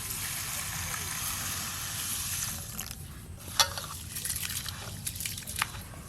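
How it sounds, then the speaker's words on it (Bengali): Rice being washed in a bowl of water in a home kitchen, with a steady sloshing, swishing wash followed by softer splashes and drips, close up with no talking. "চাল ভালো করে ধুয়ে নিলাম"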